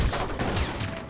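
Gunfire in the Crysis video game: a dense burst of shots, loud and close, filling the short moment with rapid overlapping reports and no speech over it.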